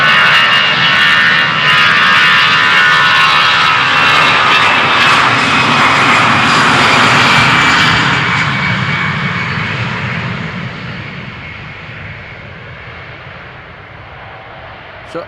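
An Aer Lingus jet in retro livery departs Amsterdam Schiphol Airport, its loud engine roar building through the takeoff run and then fading gradually as the plane climbs away.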